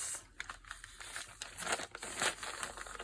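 A thin paper bag being handled, crinkling and rustling in quiet, irregular bursts of crumpling close up, with no talk.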